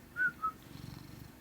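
A cat purrs up close as a soft, low, steady rumble, opened by two brief high whistle-like squeaks.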